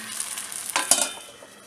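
Ghavane rice batter sizzling on a hot pan, a steady faint crackle with a brief louder burst as it spreads, heard alone without talk.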